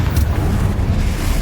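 A Confringo blasting spell explodes during Hogwarts Legacy gameplay. It gives a loud, close, low rumbling boom with a brief sharp crack at the start, sustained heavily throughout.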